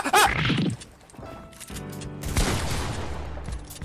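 Sniper rifle fire in Fortnite: a sharp burst of gunfire at the start, then a second crack with crashing impact sounds and rumbling game effects trailing after.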